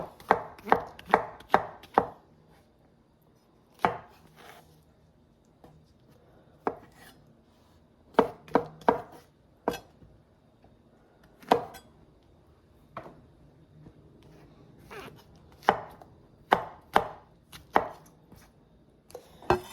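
Knife chopping vegetables on a board for pumpkin turkey chili, in quick bursts of sharp taps with pauses between runs, close and fairly quiet with no talking.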